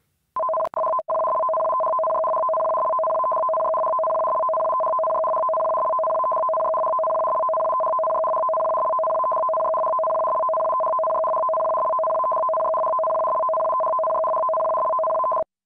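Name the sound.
Japanese J-Alert emergency warning tone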